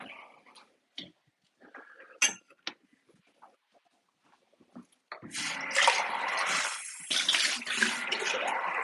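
Water gushes from a tap in a steady, loud stream starting partway through, after a stretch of faint clicks and small handling sounds.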